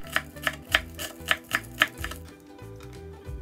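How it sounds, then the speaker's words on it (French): A knife mincing spring onion on a cutting board, about seven sharp, close chops in an uneven rhythm, then quieter cutting trailing off, with no speech. "On cisèle."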